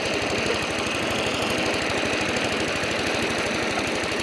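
Vintage cylinder lawn mower engine running steadily with a rapid, even putter and constant mechanical clatter, close and continuous.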